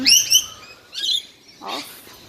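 Rainbow lorikeets chirp at close range in short, high, shrill bursts, three separate calls with brief pauses between them, no voices.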